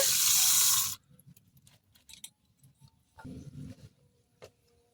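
Water gushes loudly for about a second as Gobindobhog rice is rinsed for khichuri, followed by soft sloshing, gentle swirling and small clinks of grains and vessel close by.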